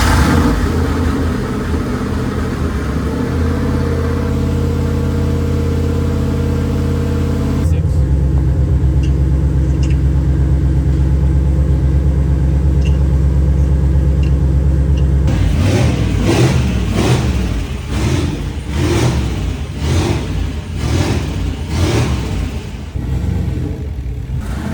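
A cheap turbocharged truck engine runs steadily and loud, a dense low rumble that shifts in tone partway through, then rises into a series of rhythmic revs and pulses near the end.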